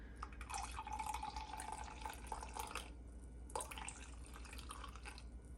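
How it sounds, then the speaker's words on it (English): About 115 grams of lukewarm water is poured into sourdough starter, giving a faint, close trickle and drip in two short bursts over a quiet background. "now I'm gonna add the 115 grams of lukewarm water."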